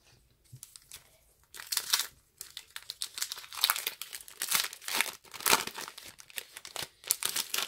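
Pokémon card booster packs being torn open and handled, with bursts of loud foil crinkling and crumpling in irregular bursts after a quiet start, close up and with no talking.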